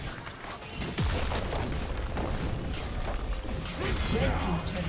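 A turret being destroyed in League of Legends: a muffled boom and crumbling crash over busy game ambience, with other game effects and a faint announcer-like voice around it.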